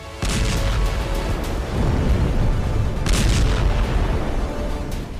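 A bunker buster bomb explosion, a heavy sustained rumbling blast with deep low booms and crackling bursts, loud and continuous with surges near the end.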